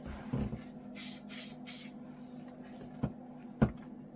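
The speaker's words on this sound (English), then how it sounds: "let's just spray a bit of that on there" Several short bursts of Schmincke watercolour fixative sprayed onto YUPO paper, close and fairly loud, with a few quieter knocks and handling sounds afterward.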